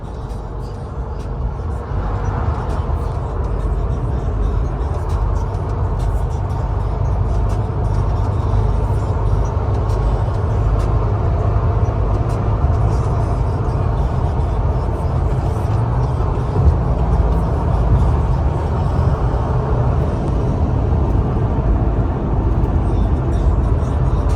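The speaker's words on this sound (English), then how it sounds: "but there's a lot of traffic." Steady road traffic heard from inside a semi-modified BMW F10 535i on a busy night drive, a continuous loud low rumble of engine and tire noise with passing vehicles and no let-up.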